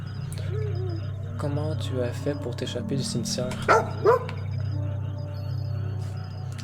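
A video game dog barks and yips a few times at moderate distance beneath a steady low electronic hum, with a person talking over it.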